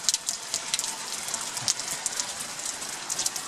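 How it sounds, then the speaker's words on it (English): Rain comes down steadily onto a wooden deck under construction, a dense patter of drops with scattered sharper hits, fairly close and without any talk. "the rain's coming down"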